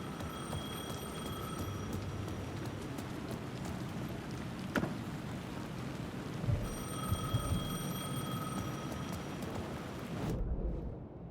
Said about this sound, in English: The phone was ringing again.